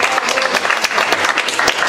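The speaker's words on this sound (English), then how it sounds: "So everyone give a round of applause for Carlos if you're enjoying the art." An audience at a community evening event applauds the arts director, with dense, steady clapping from a crowd, loud and close, lasting the full two seconds with no talking over it.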